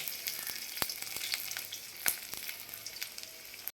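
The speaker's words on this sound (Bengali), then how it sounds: "প্রথমে দিয়ে দেবো এই রসুনটাকে আগে লাল লাল করে ভেজে নেব" Garlic fries in hot oil, a close, continuous crackling sizzle with sharp pops and occasional stirring scrapes, no talk.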